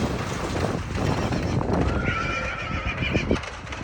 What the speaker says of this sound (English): This is a trailer driving away with a foal in it separated from its mother.